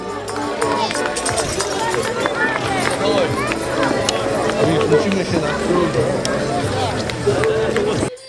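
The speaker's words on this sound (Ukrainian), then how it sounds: "Ваші оплески, шановні друзі" Dense, steady applause fills a carol concert hall at a Christmas folk festival in Perechyn, with voices and tonal sounds mixed through it, ending abruptly.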